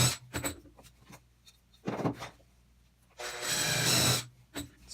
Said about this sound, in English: I'm going to go ahead and countersink a little bit so that it'll make it easier for the dowel to find the center of the hole.